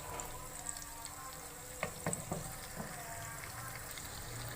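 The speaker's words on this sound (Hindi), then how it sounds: "हमने 1 कप ऑयल लिया और 2 प्याज हमने स्लाइस करके शामिल किए। अब प्याज को करेंगे सॉफ्ट" Two sliced onions softening in a cup of hot oil for mutton keema fry, giving a steady low sizzle and crackle throughout, with a few brief stirring clinks and scrapes near the middle.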